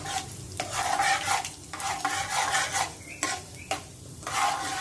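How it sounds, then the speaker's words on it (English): A spoon stirs anise seeds and unroasted sesame seeds together in a bowl for Gujarati patra, making repeated close scraping and rustling strokes with short gaps between them and no voices. "Now we'll mix it with the help of a spoon"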